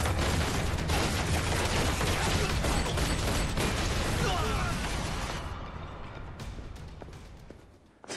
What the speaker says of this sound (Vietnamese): núi Thú Dương có tiếng súng.